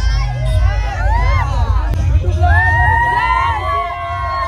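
Villagers at a village palkhi procession cheer and whoop together, with children shouting and rising voices layered over a rumbling crowd din and a sharp crack in the middle.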